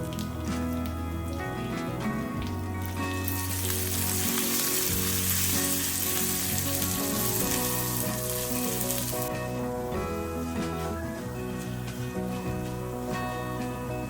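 Dried red chillies, curry leaves and urad dal sizzling in hot oil for a beetroot chutney tempering, with a loud continuous crackling hiss that flares up strongly midway and then settles, close and alone.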